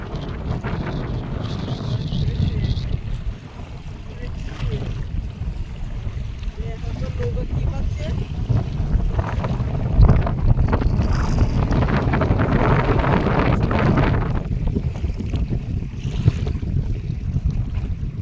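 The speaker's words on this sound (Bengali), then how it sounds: "এই প্রচণ্ড হাওয়া হচ্ছে সেই জন্য কিন্তু এই ঢেউটা হচ্ছে" Strong wind roars steadily across the microphone on a river during a storm, with a low rumble of a boat and waves beneath, continuous throughout.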